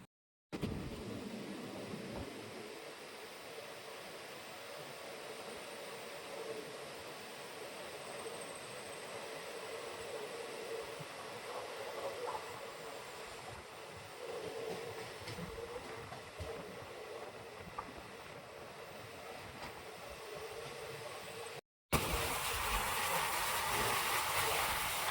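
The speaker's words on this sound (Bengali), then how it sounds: "আমাদের লোকাল ট্রেন হতে পারে, কিন্তু ঝড়ের মধ্যে ছুটে চলছে একদম।" An empty local train runs through the night in a storm, a continuous rumbling, rattling roar with hiss, heard from inside the carriage, growing harsher after a brief cut near the end.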